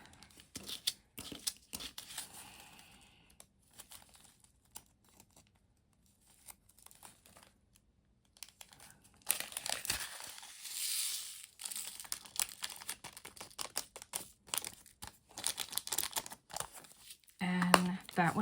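Plastic bag crinkling and rustling while a small Ever After diamond painting mini kit (Halloween capybara) is handled, in quiet close bursts that grow busier and louder toward the end, with a voice at times.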